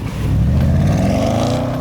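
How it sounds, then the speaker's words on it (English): A 2015 Range Rover Sport SVR engine on overrun, loud and close, a sustained throaty roar with a rising pitch that holds steady throughout with no voices. "A Range Rover shouldn't have overrun."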